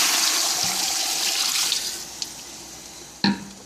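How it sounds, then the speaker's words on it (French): Water poured into a casserole pot of basmati rice with butter, a continuous rushing splash that gradually thins out, followed by a sharp knock of the pot or container. "Et là, on va ajouter l'eau."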